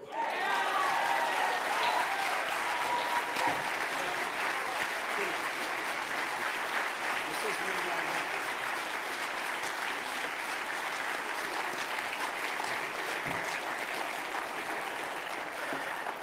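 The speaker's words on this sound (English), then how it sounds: "let's keep that applause going for CJ, Katie, and Eugene" An audience at a House Democratic town hall on health care claps in sustained, dense applause that fills the room at an even level throughout.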